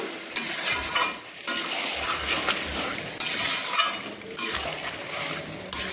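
A spatula stirs yogurt-marinated doi chicken being browned in a pan without water, with repeated scraping strokes over a steady sizzle and occasional clinks against the pan.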